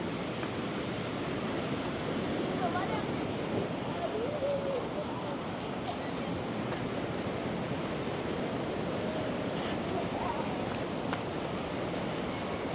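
Wind blows steadily across a beachfront, a constant broadband rush with faint surf-like texture underneath and no breaks, while people talk quietly in the background.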